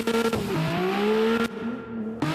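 A loud car engine in the SlideStyle racing video game revs and shifts in pitch, droning steadily with brief cuts and restarts, close and prominent.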